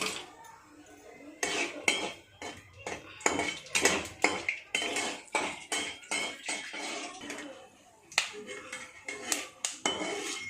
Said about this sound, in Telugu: బాండి పెట్టుకుని ఆయిల్ అయితే వేసేసుకున్నామండి ఇప్పుడు నెక్స్ట్ పల్లీలు వేయాలన్నమాట